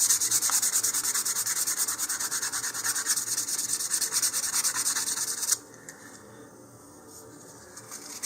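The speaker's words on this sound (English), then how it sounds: "The modeling putty has dried now, so I'm going to go ahead and sand this again." Sandpaper is rubbed over dried modeling putty on an Estes Goblin model rocket in continuous close, rapid scratchy strokes for about five seconds, then stops, leaving quiet room noise.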